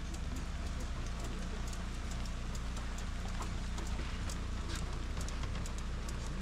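Heavy rain falling at a remote lakeside camp in the Khanty-Mansi wilderness makes a constant, dense patter of drops hitting surfaces nearby, with no voices over it.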